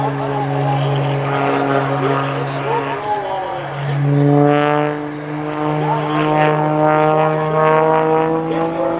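Bill Stein's aerobatic propeller plane performing at the Dayton Air Show: a loud, steady engine whine rising and falling in pitch through a low pass, with an announcer's voice over the roar.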